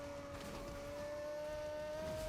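A car's engine in the game Fortnite, a war wagon, drones steadily at an even pitch, faint and continuous with no voices over it.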